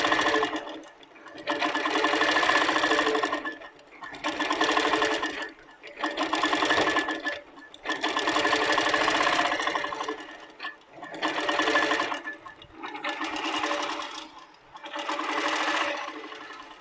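A Pro-Stitcher computerized longarm quilting machine stitches tiny border micro stitches, its needle chattering in a steady fast rhythm that swells and pauses in regular cycles of about two seconds, loud and close.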